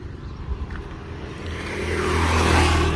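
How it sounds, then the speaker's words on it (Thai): A bus engine revving hard yet failing to pick up speed, a loud close drone that swells and strains upward over a few seconds with no voices. "เร่งไม่ขึ้นแล้วก็ดับนะครับ มันจะปั๊บปั๊บปั๊บปั๊บปั๊บ"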